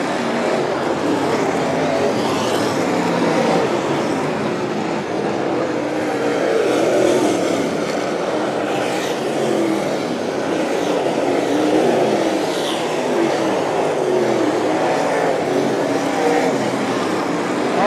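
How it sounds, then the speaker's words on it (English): Race cars roar around a track late in the race, a continuous loud blend of engines rising and falling as cars pass, heard at a distance throughout without talk. "Tristan's all over Kyle Hardy. 5 laps to go."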